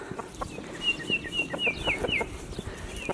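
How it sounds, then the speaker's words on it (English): Chickens in a garage bird crate cluck and squawk in a busy, close, moderately quiet flurry, with a few rising high calls in quick succession and no talking. "birds out of the pet crate in the garage"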